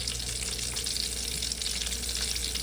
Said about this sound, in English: I'm putting my shrimp in here. The grease is hot enough.